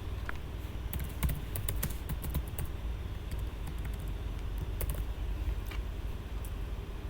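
Typing on a computer keyboard to fill in a report dialog, with irregular soft key clicks coming in short bursts over a steady low hum of room noise.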